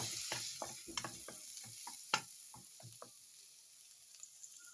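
Garlic sautéing in a pan makes a soft, steady sizzle beneath a series of quick spatula scrapes and taps that thin out toward the end.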